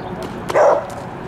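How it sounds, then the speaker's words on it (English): A dog barks a few times at a moderate distance in an outdoor public park in Chattanooga, the barks short and somewhat faint against light background noise. "And a dog."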